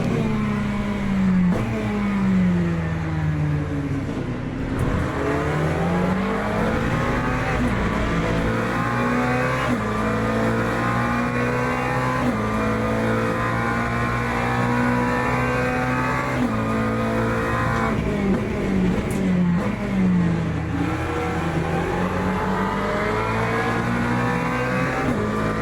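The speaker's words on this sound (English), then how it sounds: "You can tell when you're next to that Mustang, can't you? That engine roar is orgasmic." A Mustang race car's engine roars in Le Mans Ultimate at Bahrain, loud and continuous, its pitch climbing and dropping through gear changes as it holds speed, with no voices over it.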